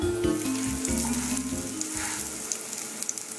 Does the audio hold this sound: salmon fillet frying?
yes